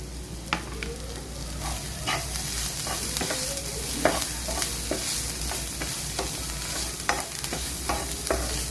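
Chili powder sautés in the base for paneer butter masala with a constant, even sizzle under a low hum, while a spoon stirs and taps the pan in irregular light strokes.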